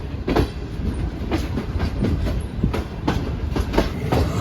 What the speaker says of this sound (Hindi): तो हमारी ट्रेन बढ़ चुकी है लाहौर की तरफ।